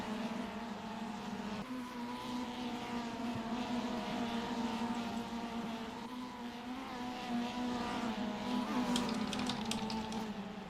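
A racing car's engine drones steadily at high revs as it powers out of turn 2 in a MITS car feature race, a continuous buzzing roar that shifts pitch slightly as it accelerates, with no voices.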